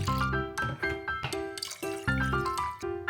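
Vinegar poured into a bowl for Korean onion pickle brine, a close gurgling stream broken into several glugging pulses with bright ringing splashes over about three seconds.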